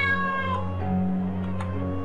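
A cat meows in the video game Doom & Destiny, a drawn-out wavering cry heard close over steady background game music.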